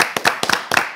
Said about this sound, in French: Applaudissez Jerry Les Wisdom.